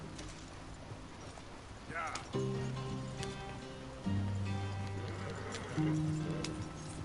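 Horses' hooves clip-clop steadily in the video game Red Dead Redemption 2, a continuous trotting rhythm over a background of tones and ambience, with a person speaking briefly.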